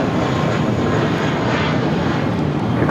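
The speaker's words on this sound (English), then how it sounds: "That was American Airlines 2546 taking off to Mexico City on the A319" An American Airlines Airbus A319 roars steadily down the runway on takeoff at Los Angeles airport, a loud, continuous broadband engine rumble heard up close with no voices.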